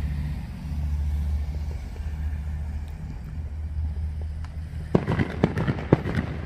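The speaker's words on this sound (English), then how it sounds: "there's some more fireworks just went off" Fourth of July 2020 fireworks go off in a quick cluster of sharp, distant pops and cracks near the end, over a steady low rumble of background noise.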